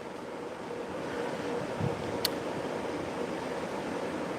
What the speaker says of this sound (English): Oh, that wind is picking up.